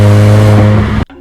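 Small old car engine running loud and close, a steady buzzy drone with strong low harmonics that cuts off abruptly just before the end, leaving quiet background.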